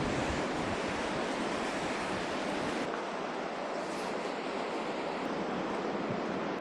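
A river rushes through a valley on a very windy day, a dense, constant roar of flowing water blended with gusting wind noise, steady throughout with no voices.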